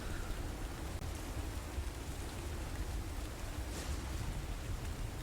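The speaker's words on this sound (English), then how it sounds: "You can hear the sound of the rain beating against the ship and the splashing of the waves" Steady rain drums against a ship's hull with a constant broadband wash of water and sloshing waves, heard close and continuous with no voices.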